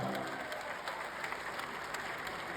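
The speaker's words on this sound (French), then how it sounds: "On applaudit la belle époque." An audience at a stand-up comedy show claps continuously, a thick, even patter of many hands with no voices standing out.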